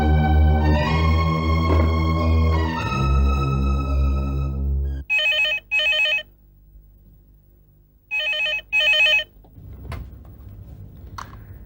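An old-style telephone rings in two loud double bursts after a stretch of music, followed by faint handling sounds like a receiver being picked up.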